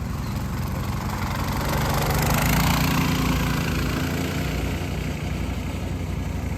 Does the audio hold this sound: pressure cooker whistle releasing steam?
no